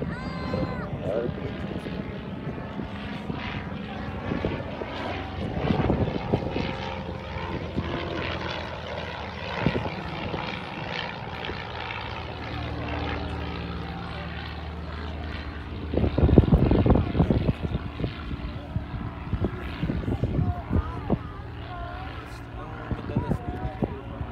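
Propeller aircraft performing an aerobatic display at an airshow at the RAAF Museum, Point Cook, its engine droning and shifting in pitch throughout as it loops and rolls, with a narrator talking over it and wind buffeting.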